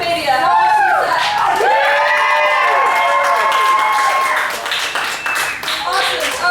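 An audience at a Commedia showcase claps after the performance while whoops and bright cheering voices rise over the applause, which fades toward the end.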